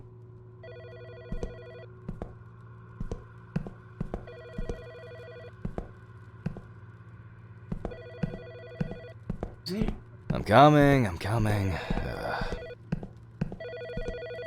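In the video game Autopsy Simulator, a telephone in a pathologist's morgue office rings in repeated evenly spaced bursts, nearby and clear, while someone talks briefly partway through.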